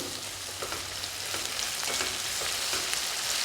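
Two medium tomatoes, sliced lengthwise, fry in a pan with a dense, steady sizzle and faint crackles, close and continuous with no talking.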